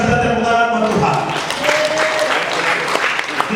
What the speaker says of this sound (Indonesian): Luar biasa, kita tepuk tangan buat Tuhan.